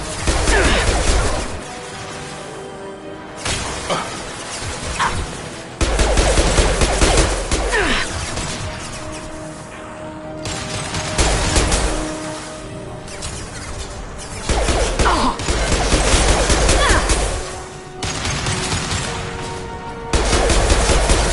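Combat in a sci-fi video game with a custom character: repeated loud, close blasts of gunfire and concussive shots come in heavy bursts with short gaps between them.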